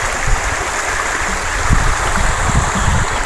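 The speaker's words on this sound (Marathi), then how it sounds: "रात्रपासून गेले 2 दिवस झालं ओढा वाहतोय बघा." A rain-swollen village stream rushes continuously in a loud, close, steady roar with occasional low gurgles and splashes.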